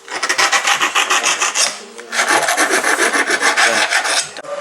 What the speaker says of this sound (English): So don't forget to file it down.